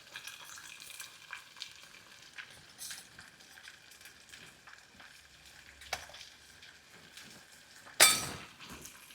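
Cluster beans and potatoes cooking together in a pan give a soft, steady sizzle with scattered stirring scrapes and a louder clatter near the end, with no voices.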